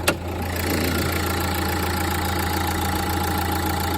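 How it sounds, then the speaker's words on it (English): A 2013 Nissan NV200 camper van with about 70,000 miles idles steadily at close range, a low, even engine drone with a faint rhythmic knock and no talk, holding constant after a brief start. "So if we start up and get the get the bonnet open and have a look at the engine."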